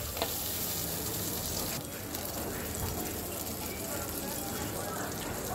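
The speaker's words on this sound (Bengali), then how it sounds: "দেখো আমার কিন্তু ঝোলে বলক চলে আসছে" Fish curry with pumpkin lentil dumplings coming to a boil in a pot, a steady close bubbling and sizzling hiss that continues throughout with faint clinks.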